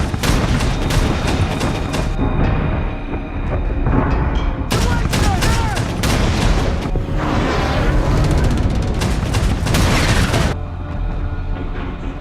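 Naval gunfire from a World War II destroyer battle in the film Greyhound: loud, dense volleys of booming shots and rapid bursts, with shouted commands over the barrage.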